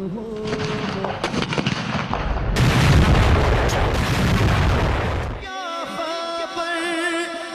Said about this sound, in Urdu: اسلام آباد میں دن کا آغاز 31 توپوں کی سلامی سے ہوا